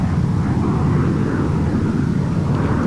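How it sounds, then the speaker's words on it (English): A Mirage fighter jet in a desert combat video game gives a steady, dense engine roar, unbroken and fairly loud for a few seconds with no speech over it. "this is the Mirage. So this is a very fast fighter."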